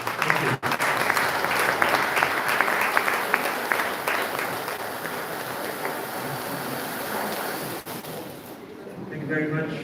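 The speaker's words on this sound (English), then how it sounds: "Ladies and gentlemen, a big round of applause" An audience at a security and safety team launch event gives a sustained round of applause, a loud, dense clatter of many hands that eases slightly toward the end, with voices faintly mixed in.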